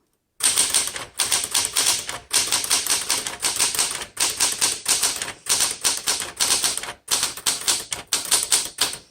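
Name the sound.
typewriter typing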